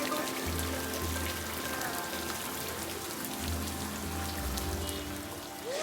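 Water from a waterfall pours and splashes inside a cave in Uttarakhand, a constant broad hiss of falling water with a faint low hum underneath, fairly quiet and even.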